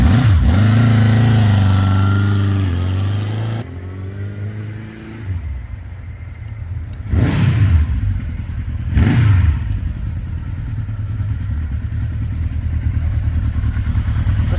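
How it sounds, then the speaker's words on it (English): A 1982 Honda CB900C motorcycle with dual exhaust rumbles steadily at idle, with a couple of brief throttle blips rising and falling, close by and loud. "The burble of the dual exhaust on this thing sounds"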